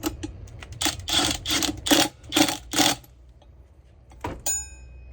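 A rear disc brake going onto a Trail Master MB200II mini bike: a close run of rhythmic mechanical bursts like a ratchet or spinning rotor, about five clustered pulses, then quiet and a short metallic clink with a faint ring at the end.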